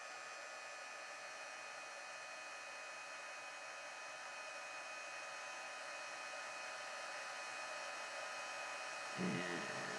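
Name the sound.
heat tool heat embossing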